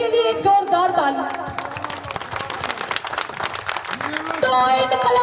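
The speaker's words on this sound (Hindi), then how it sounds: "पूरी फुरकान भाई और फुरकान भाई की टीम के लिए एक जोरदार ताली।" A crowd at a protest gathering claps and cheers for a team, a dense continuous patter of applause with voices mixed in, steady throughout and fairly loud.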